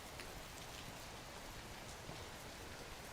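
Rain falling during a typhoon in Saitama City, a dense, even hiss of drops on surfaces with scattered louder splats, steady and soft throughout without voices.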